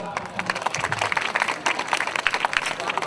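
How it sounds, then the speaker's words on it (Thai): Audience applause at an evening khantoke dinner show, a dense patter of many hands clapping at moderate distance, fairly even throughout with some murmuring underneath. "ขอเสียงปรบมือให้กับ พี่ พุทธสุพิศลาศรีสถานด้วยครับ"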